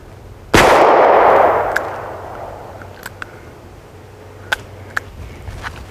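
A single loud shot from a New England Firearms R73 revolver in .32 H&R Magnum, fired outdoors at a plywood target, with a sharp crack and a long fading echo, followed by faint clicks.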